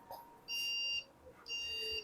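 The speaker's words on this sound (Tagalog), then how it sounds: "3 long beep." A Sapphire Nitro RX 580 graphics card with a no-display fault gives long electronic beeps at power-on on a repair bench. Two sustained high beeps are heard, separated by a short pause, faint over a low background hum.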